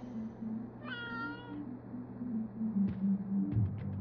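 A cat meows once in the video game Life is Strange: True Colors, a short, clear, slightly drawn-out call over a low steady background hum, followed by a couple of faint clicks.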